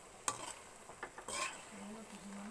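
Soybean curry being stirred in a pan for an Assamese kosu bao dish, with soft scraping strokes and a couple of louder clinks over a low steady simmer, close by.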